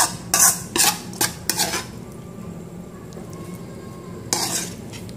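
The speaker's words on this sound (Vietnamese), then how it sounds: "Các bạn chuẩn bị cho mình một cái đĩa này để mình cho khoai ra nhé" Stir-fried garlic potatoes are scraped from a pan onto a plate, giving several quick clattering scrapes of a utensil against cookware, then a pause and one final scrape.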